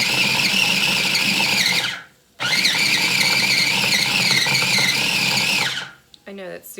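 Tough sourdough bread is pulsed into breadcrumbs in a food processor, with two long loud whirring bursts of the motor broken by a short pause, then a brief quieter tail at the end.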